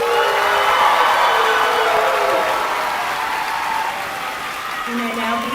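An audience applauding graduating students at a high school graduation ceremony, with sustained dense clapping from a large crowd that fades gradually while a voice speaks over it.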